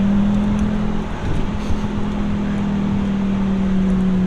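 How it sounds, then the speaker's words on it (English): A car engine idling steadily, heard from inside the cabin as a low, even drone that holds constant throughout, with a slight dip and swell partway through and no speech. "Sounds like a little V10."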